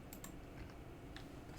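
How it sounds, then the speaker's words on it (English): A computer keyboard key is pressed while a design is modeled on screen, a few faint, quick clicks sounding alone over a steady low background hum. "And then hit 3 on the keyboard."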